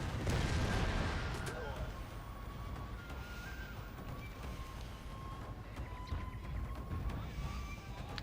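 24-pounder cannons fire in a Shogun II: Fall of the Samurai battle, a booming blast at the start followed by rumbling distant artillery and battle noise, with a voice speaking over the din.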